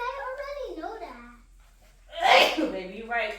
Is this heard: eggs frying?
no